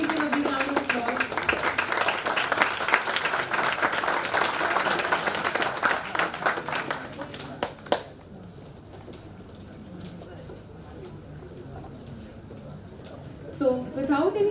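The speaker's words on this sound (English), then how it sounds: "Please give a big round of applause." Applause from a conference audience at a business literature summit, dense clapping for several seconds that fades out, leaving quiet room tone and a brief burst of speech near the end.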